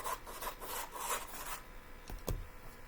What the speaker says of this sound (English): I'm mainly just trimming it up so it'll fit in my notebook a little bit better than a full sheet of paper.